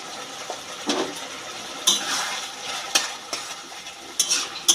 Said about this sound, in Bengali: খুব সামান্য একটু গরম মশলা আমি তরকারির সাথে মিশিয়ে দেবো